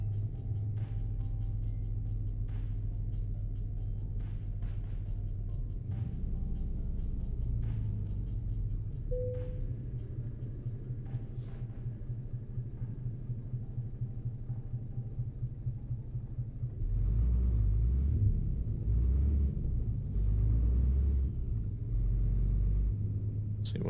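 Modded truck engine in Euro Truck Simulator 2 drones in a steady low rumble, with a pulsing throb in the middle stretch, then swelling louder and heavier near the end, heard alone without talk.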